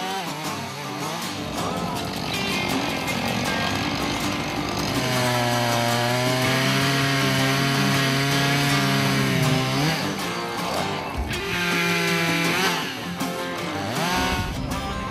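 A chainsaw buzzes loud and steady, cutting big dead trees into firewood logs. The engine pitch rises and falls as it bites through the wood, with a short lull near the end before it revs again.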